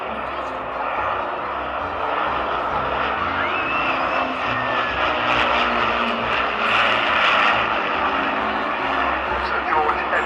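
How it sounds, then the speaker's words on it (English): An Avro Lancaster bomber passes at an air show, its piston engines and propellers giving a loud, sustained droning roar that stays steady throughout, with an announcer talking over it. "Tony Taylor brings the Lancaster back in front of us"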